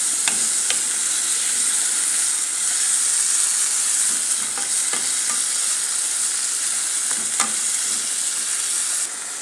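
Fried rice with chicken, corn and carrots is stir-fried in a pan, giving a loud, steady sizzle with scraping stirs and clinks at irregular intervals throughout, and no talking.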